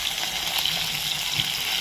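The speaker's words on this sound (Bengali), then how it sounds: "দুটো করে ভাজবো করে একদম কড়া করে ভেজে নেবে" Tilapia pieces fry two at a time in hot oil until crisp, giving a loud, steady, dense sizzle that runs without a break and with no voices.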